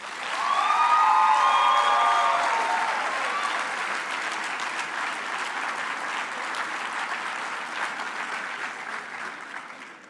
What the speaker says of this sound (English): I would like to ask our graduates to applaud their families, friends, and spouses for all their support over many years